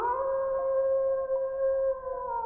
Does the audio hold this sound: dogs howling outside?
yes